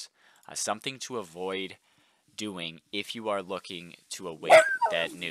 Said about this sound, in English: Sorry for the dog there.